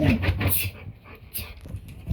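A dog pants and whimpers in short, agitated bursts close by after a person sneezes, the sounds uneven and fairly loud, with people talking around it.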